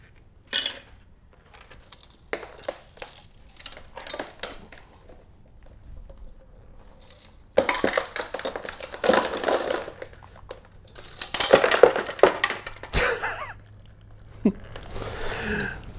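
A Toyota 2GR-FE engine flipped over during disassembly on a workbench, with metallic clunks, rattling parts and scraping in bursts, followed by a louder rumbling clatter.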